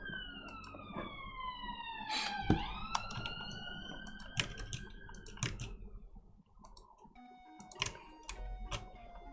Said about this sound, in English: Also, sorry about the sirens.